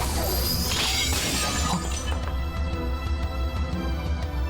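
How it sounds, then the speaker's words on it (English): Swords shattering in a visual novel battle scene from Fate/Hollow Ataraxia, a dense burst of breaking metal and crashing debris followed by scattered tinkling fragments over a steady low rumble, with no talking. "The fangs are pulverized, shattering without a trace."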